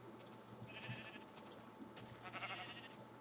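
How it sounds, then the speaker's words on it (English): Sheep in the video game Minecraft bleat twice, a short call and then a longer wavering one a moment later, each clear over a steady low background hum with no talk. "here we have one of the rare tree-dwelling sheep"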